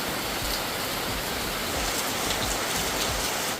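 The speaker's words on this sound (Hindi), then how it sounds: "जैसे ही काजल नाम पड़ा वैसे खतरनाक बारिश है" Heavy rain pours steadily onto an open courtyard, a dense and loud hiss of drops that holds at an even level with no pauses.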